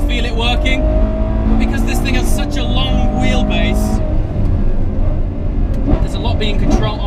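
A Ferrari 812 Competizione V12 engine roars loudly and steadily from inside the car, with quick gear-shift breaks in the note and a voice talking over it.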